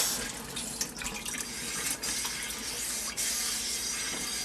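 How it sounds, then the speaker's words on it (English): Water pouring and splashing out of a rusty cast iron skillet being cleaned with a Brillo pad and vinegar, a steady close rush like a running tap with small splashy bursts. "this water comes out of the skillet"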